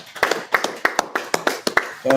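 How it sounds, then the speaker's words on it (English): A small congregation at a Torah portion teaching claps in quick, uneven bursts, a short spurt of applause that ends as a voice begins. "round of applause"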